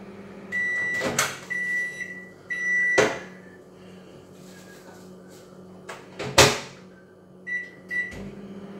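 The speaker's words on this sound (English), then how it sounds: "I put it in the microwave to rise double" A microwave oven runs with a steady low hum and a faint whine, broken by several loud clunks of a door or cupboard opening and closing, in a home kitchen where focaccia dough is set to rise.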